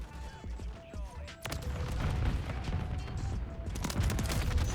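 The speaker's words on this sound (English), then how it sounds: "he shot me with an RPG, bro" RPG rocket hitting the player in Modern Warfare 3: a sharp blast cuts in partway through, followed by a dense wash of gunfire and crashing debris, with a second loud burst near the end.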